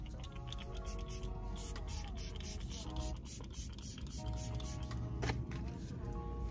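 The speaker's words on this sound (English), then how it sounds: "So this is setting powder spray." Makeup setting spray is misted in quick hissing puffs inside a car, layered under a person talking.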